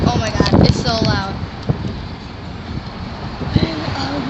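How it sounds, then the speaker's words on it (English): Strong wind buffets the microphone outdoors with a loud, rough rumble that swells and eases throughout, while a voice is faintly heard beneath it near the start and end. "Sorry if you guys can't hear me that well. It's because the wind. Oh my god, it's so loud."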